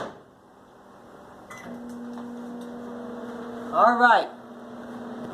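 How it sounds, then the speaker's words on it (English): Microwave oven cooking corn as is, a steady low hum running under a brief spoken remark, with a short burst of clattering noise near the end. "it's basically cooking the corn as is in the microwave for like about 4 minutes."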